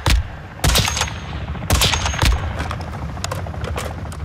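Several sharp, loud gunshots ring out in the video game Warzone 2.0 DMZ, a few close bursts at the start followed by quicker, fainter shots and rattling fire trailing off.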